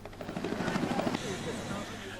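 A helicopter giving rides at an air show thrums nearby with a steady rotor chop and engine whine, while someone talks over it.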